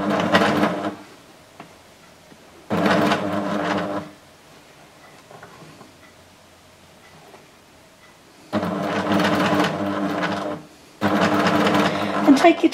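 Sewing machine stitching quilt fabric in short bursts, loud and close, with quiet pauses between runs as the fabric is repositioned; no talking over the stitching.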